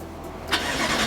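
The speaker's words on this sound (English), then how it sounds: "Let's start the car up." A 2018 BMW M6 Convertible starts with the push button: a quiet moment, then a sharp crank and the engine catching into a loud idle rumble, close up.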